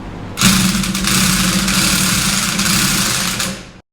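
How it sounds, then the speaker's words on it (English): A welder tacks a nut onto a lowered Dodge Dakota pickup truck. A loud, steady crackling buzz holds for about three and a half seconds, then cuts off abruptly. "try to get a bit more of a potato weld on there"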